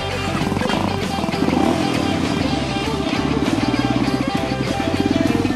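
Motorcycle climbing a steep dirt trail hill, engine loud and steady with a rising, throbbing roar under excited shouting from onlookers.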